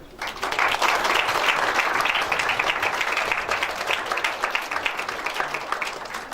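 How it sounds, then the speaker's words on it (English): Loud, sustained applause from a school convention audience welcoming student participants, steady dense clapping filling the whole stretch without pause. "let's all welcome them by a huge round of clap"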